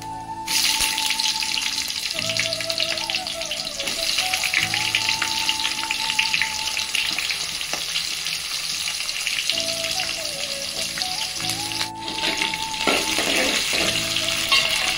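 Sliced onion and green chillies fry in hot oil with shahjeera, cinnamon, cloves, cardamom and peppercorns, a loud, continuous close sizzle that barely changes over the whole stretch, with a thin tone running beneath.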